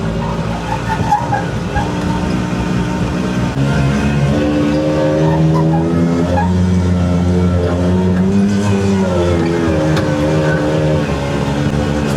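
An old Italian micro van that had sat parked for 20 years, its small engine revving hard and steadily while the wheels spin on grass without grip, loud and close with wavering pitch.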